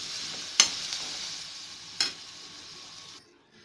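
Ingredients sautéing in a pan for an egg cheese omelette, a soft steady sizzle with two sharp scrapes of the spatula, fading out at the end.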